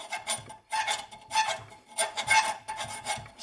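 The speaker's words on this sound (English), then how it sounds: "you're going to basically work that file back and forth on that bottom edge to remove a burr." A flat file works back and forth along the cut bottom edge of a strap mod part to remove a burr, producing close, rhythmic raspy strokes, roughly two per second, with brief pauses between passes.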